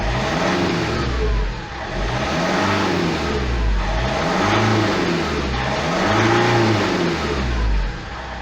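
A 2008 Vauxhall Astra 1.9 CDTI diesel engine with a DPF pressure sensor fault is revved three times, each rise and fall loud and close over a continuous engine drone.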